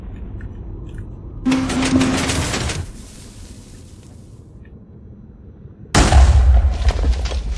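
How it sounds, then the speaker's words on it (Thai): Two booming TNT blasts in Minecraft, set off mid-layer while clearing blocks: a loud, broad burst with a rumbling tail lasting over a second, a pause, then a second equally loud blast near the end. "อันนี้ผมระเบิดกลางชั้งโอ้ มันก็ไม่ดีเท่าไหร่นะครับ"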